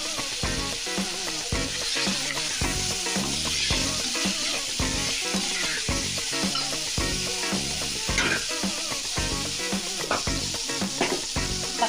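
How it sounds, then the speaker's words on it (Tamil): Ginger garlic paste fries in a pan for chicken kurma, a steady close sizzle with faint stirring scrapes continuing without a break and no talk. "பாருங்கள், இஞ்சி பூண்டு பேஸ்ட்டு நல்லா வதங்கிடுச்சு."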